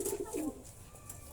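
Pigeons give brief, soft throaty coos in a short burst, close and faint against quiet background noise.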